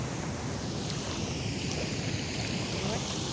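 Water rushes through the opened gates of Dhori Dhaja Dam near Surendranagar in a dense, continuous roar, loud and steady, with wind buffeting the microphone and a hint of voices underneath.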